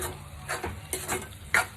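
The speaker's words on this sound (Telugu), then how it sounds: "ఇప్పుడు కలుపుకుందామండి. కర్రీకి అంతా కలిసేలాగా కలుపుకుందాము." Egg curry with fenugreek and tomato is stirred in a pan, with a low simmering sizzle under a few short scraping strokes of a spoon, close and fairly quiet.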